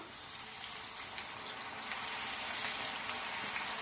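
Potatoes fry in hot oil with a steady, dense sizzling hiss that holds evenly throughout and swells slightly toward the end, with no talking.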